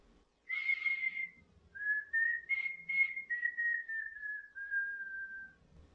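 A person whistles a slow, clear melody alone, a few sustained notes followed by a long gently falling tone, close and quiet.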